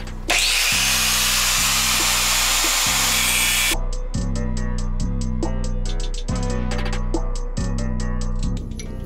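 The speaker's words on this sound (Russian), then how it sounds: "Вот эту вот гаечку надо срезать" A power tool grinds and cuts through a rusted nut on a 2010 Toyota RAV4. The loud, harsh whine first holds steady, then breaks into a repeated rhythmic chatter as the blade bites in, close and continuous.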